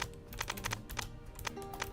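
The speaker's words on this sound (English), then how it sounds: "What if I can find the image just by typing in The Rock?" Computer keyboard typing, a quick uneven run of close, light key clicks over a faint background hum.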